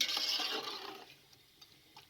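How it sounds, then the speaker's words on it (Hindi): A cup of water pours into a chicken biryani mixture in a cooking pot, a close, bright splashing rush that lasts about a second and then fades to quiet with a few faint drips. "और 1 कप पानी का शामिल कर दें।"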